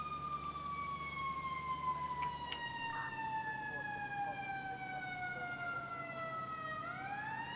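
Fire engine siren in the EmergeNYC firefighting video game, a loud wailing electronic tone sweeping slowly downward before rising again near the end, continuous over a low engine drone.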